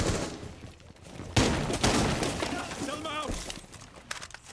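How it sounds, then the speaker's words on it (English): Video-game gunfire during a competitive esports match: a volley of shots with bullets whizzing past, loudest in the middle, heard beneath excited live commentary. "The bullets fly over his shoulder."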